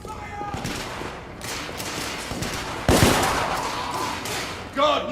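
Rapid gunfire erupts in the steampunk shooter The Order: 1886, loud overlapping bursts like a fusillade rattling on with a sharp surge midway, with voices mixed into the firefight.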